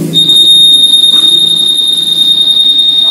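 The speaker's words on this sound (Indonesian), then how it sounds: "Alarmnya langsung bunyi lagi ya." A new 2019 red Honda Vario 150 scooter's built-in anti-theft alarm shrills with a loud, steady high-pitched electronic tone that holds continuously throughout, with faint low rumble beneath and no talking.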